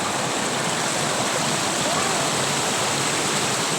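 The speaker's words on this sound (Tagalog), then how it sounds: "Malalim guys ang tubig." Floodwater running down a street makes a continuous, broad rushing wash of moving water that stays steady and close throughout, with a voice faintly audible beneath it.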